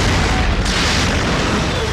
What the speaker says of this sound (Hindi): आसमान से किसी ने गोली चलाई।